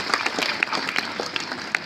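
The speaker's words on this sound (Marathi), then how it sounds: "सगळेजण याचं जोरदार टाळ्या वाजवून स्वागत करा" Audience at a school prize distribution at Nutan Vidyalay, Selu, clapping in a short burst of applause, moderately loud and close, with scattered distinct claps.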